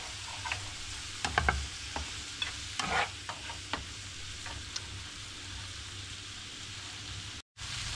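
Seasoned chicken, salted and peppered, being mixed in a pan, with a steady low sizzle under a series of sharp spoon scrapes and taps spread through the first five seconds, then a brief dropout near the end.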